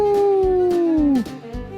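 A person lets out one long, loud wolf-like howl, sliding slowly downward in pitch before breaking off, with a short quieter tail afterward. A human voice imitating a wolf.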